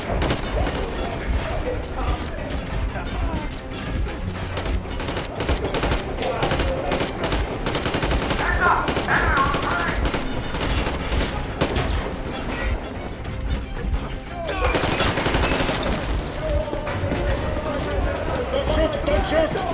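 Dense automatic and single gunshots in the post-apocalyptic shooter Metro Exodus, near and loud, rattling almost without pause for the whole stretch, with shouted voices mixed in beneath the firing.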